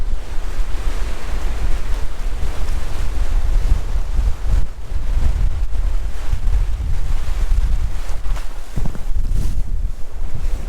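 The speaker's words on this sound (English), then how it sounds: "the water's fairly lapping right up against the rocks by the looks of it" Loud ocean waves lap and wash against rocks along a coastal track, a continuous churning roar heavy with wind buffeting on the microphone, no voices.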